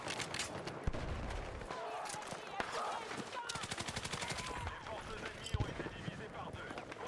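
Gunfire in the Battlefield 6 video game, bursts of rapid automatic shots and scattered single cracks at moderate distance, with someone talking over the action.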